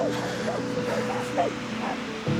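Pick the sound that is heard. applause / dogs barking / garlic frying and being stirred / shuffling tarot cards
dogs barking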